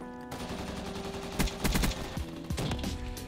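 Rapid bursts of R70 Ajax automatic fire in a video game, loud and close, with several clusters of shots near the end set against steady game background noise.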